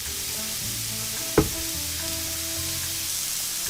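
Onion and carrots fry in a preheated pan, giving a steady close sizzle with a brief sharp clack of a utensil partway through, and no voices.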